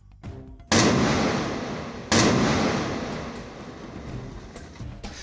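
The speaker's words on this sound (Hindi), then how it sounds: "पहाड़ों पर धड़ल्ले से विस्फोट किए जा रहे हैं" Explosive blasting on hillsides at an illegal stone-mining site: two heavy booming detonations about a second and a half apart, each with a long rumbling decay, heard from a distance.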